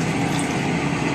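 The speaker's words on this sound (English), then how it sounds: "we're going to pour it into this tub of limestone" Hydrochloric acid poured into a tub of limestone, a steady close liquid splash and fizzing wash that runs unbroken and fairly loud throughout.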